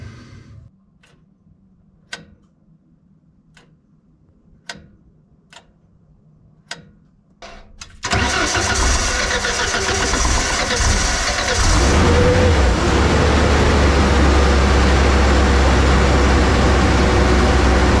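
A Ford LRG-425 engine on a JLG 80HX boom lift cranks after a series of sharp metallic ticks, then churns loudly and steadily for about ten seconds, close and alone.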